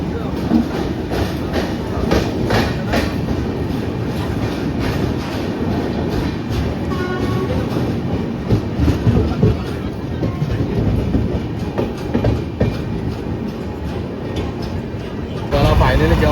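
A passenger train rolls steadily along the rails after leaving Lonavala station, a continuous loud rumble with faint rhythmic clatter filling the whole stretch, heard from inside the carriage.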